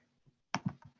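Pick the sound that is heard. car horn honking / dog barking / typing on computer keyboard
typing on computer keyboard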